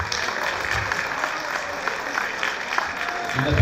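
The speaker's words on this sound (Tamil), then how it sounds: "எங்கே உங்களது கரகோஷங்கள்?" An audience at a Tamil harvest festival celebration in Graubünden claps in a scattered, moderate burst that swells slightly toward the end, with an announcer's voice nearby.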